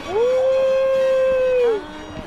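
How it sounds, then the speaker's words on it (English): A dog gives one long, loud, close howl that rises, holds a steady tone for over a second, then slides down and fades, followed by quiet background. "Are those your dogs?"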